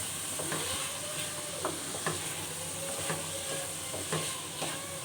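Boiled turnips, carrots and peas stirred with spices in a pot, a soft steady sizzle under repeated rhythmic scrapes and knocks of a spoon against the pan, quiet and close.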